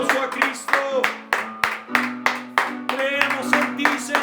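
A church congregation claps in a steady rhythm, about three claps per second, with voices singing or calling out over the clapping.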